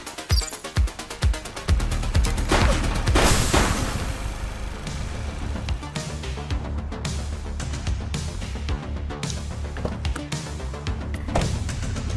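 Gunfire aimed at a car in The Precinct police video game, with a fast burst of sharp shots at the start, then heavy booming impacts and rumbling engine noise over a dense, continuous action soundscape.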